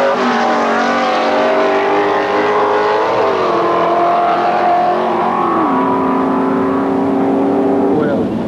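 Drag racing cars accelerating hard down the strip at a drag meet, both running in the low 14-second bracket; a loud, sustained engine roar with shifting tones that holds steady throughout, with a commentator's voice over it.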